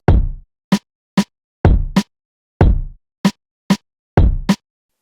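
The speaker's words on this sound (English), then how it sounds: "So far we have the kick and the snare." Hip-hop beat of booming kick drums alternating with a snare layered with a rim shot, a steady loop of deep decaying thumps and tight cracking hits, loud and close with no voices.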